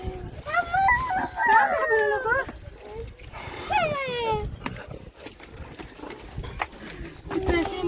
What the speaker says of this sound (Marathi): आयला कुत्रा वाटत